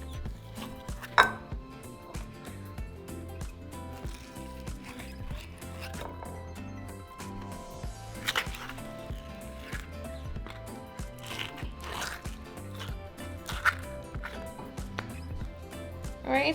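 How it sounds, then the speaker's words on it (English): Avocados are smashed in a bowl for carne asada super nachos with repeated squishy mashing and scraping knocks, a steady irregular rhythm close up throughout, with occasional sharper clacks against the bowl. "we can smash our avocados"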